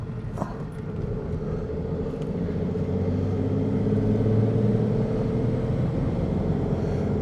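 A car creeps slowly along a cold, winter mountain road in the Troodos, a steady low engine and road rumble holding throughout with no voices.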